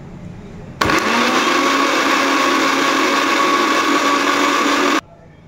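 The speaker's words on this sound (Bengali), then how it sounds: "এটা পুরনো মিক্সিং গ্রাইন্ডার, কিন্তু আমার বৌমা কিন্তু 2-3টে পেয়েছে, নামায়নি, এটা ব্যবহার করি" An old mixer grinder runs at full power for about four seconds, a steady loud whirring motor drone that starts and stops abruptly.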